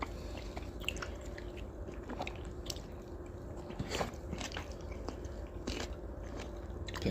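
Kimbap being eaten up close, with repeated soft bites and moist, crunchy chewing in an irregular rhythm, heard alone with no talk.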